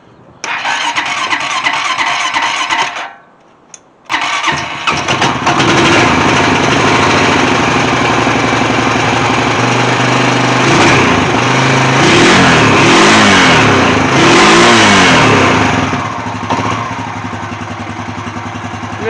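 A paraquad engine fitted with a new, cheap aftermarket carburetor cranks, falters into a short silence, then catches and runs steadily, revving up and down in several loud, close surges before settling back to idle.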